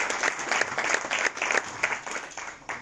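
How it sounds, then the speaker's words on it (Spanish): An audience at a lecture applauds for a few seconds. The claps are dense and continuous, rising and falling slightly, with no speech over them. "Un aplauso"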